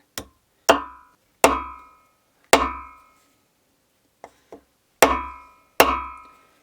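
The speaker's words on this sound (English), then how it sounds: "They call it a ball peen hammer." A ball peen hammer strikes metal rod ends in sharp ringing blows, evenly spaced with a pause and two light taps midway, each clang decaying quickly.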